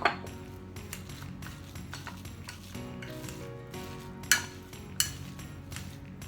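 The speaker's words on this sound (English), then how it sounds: "I'm going to go in for another round of mashing" Sweet potato and chickpeas being mashed in a bowl, giving soft squishing and scraping under irregular metallic clinks and a few sharper knocks of the utensil against the bowl, close and fairly quiet.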